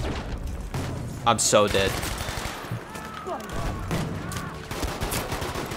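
Rapid hip-fire bursts from a gun in Battlefield 5, with loud cracking shots and a fast rattle of automatic fire. Other combat noise surrounds them, and someone speaks briefly over the shooting.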